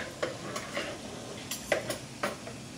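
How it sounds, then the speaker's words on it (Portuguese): Turkey breast frying in olive oil in a pot, with a low, soft sizzle under several sharp clinks and scrapes of a utensil against the pot. "vamos deixá-lo fritar um bocadinho no azeite"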